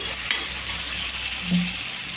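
Chopped medium onions, lightly salted, fry in a pan as they turn golden brown for paneer butter masala, giving a steady close sizzle with a brief stir around the middle, no talking.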